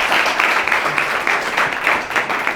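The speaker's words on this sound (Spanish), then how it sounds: "Un aplauso a Carmen." At a university debate club masterclass, an audience gives Carmen a brief round of steady applause, fairly close and full.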